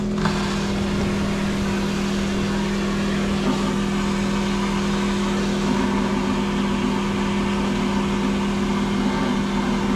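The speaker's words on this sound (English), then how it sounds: "I'm going to start up my pump" A vapor blaster slurry pump, fitted as an upgrade to a VHT Micro Hone cabinet, hums steadily and loudly at close range, a constant motorized drone that barely varies once it is running.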